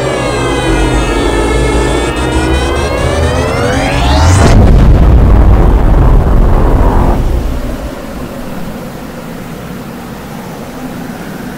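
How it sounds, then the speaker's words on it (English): An implosion bomb in a nuke-testing video game gives a long rising whine that sweeps upward, then a huge roaring detonation that rumbles loudly for seconds before settling into a steady low wash of noise. "we're gonna use the implosion bomb."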